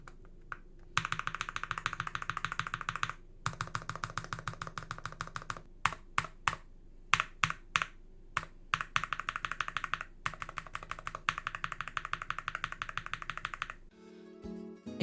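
Rapid, steady typing on a Monsgeek M1 V5 TMR keyboard, crisp close-up keystrokes in dense bursts with a few brief pauses, no voices.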